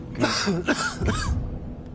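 A few rough coughs and throat-clearing bursts, close and fairly quiet, in quick succession, from an audience member on the UK quiz show Who Wants to Be a Millionaire.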